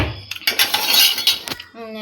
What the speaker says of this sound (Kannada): ಓಕೆ, ಮೆಂತ್ಯಕಾಳು ಹಾಕ್ಕೊಂಡು ಸ್ವಲ್ಪ ಹುರ್ಕೋಬೇಕು.